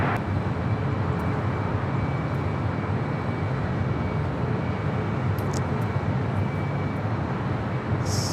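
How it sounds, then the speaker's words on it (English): A Southwest Airlines Boeing 737 MAX 8 arriving from Baltimore onto the north side runway at Los Angeles International Airport, a steady, loud broadband jet roar holding evenly throughout. "Next arrival on the north side is Southwest Airlines Flight 1772 coming in from Baltimore, 737 MAX 8"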